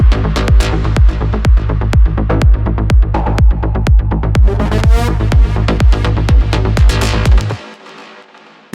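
Melodic techno drop with a driving, prominent bass line under a steady four-on-the-floor kick, dense layered synths building over several bars before cutting off near the end.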